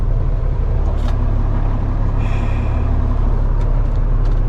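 A flatbed straight truck engine idles close by in a steady deep rumble, with a short hiss of air and faint clicks and rattles over the constant drone.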